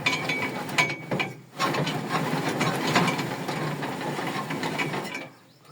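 A hand-turned garlic planter mechanism, deeply modernised, clicks and rattles in a steady ratcheting run with a short pause early on, then fades near the end.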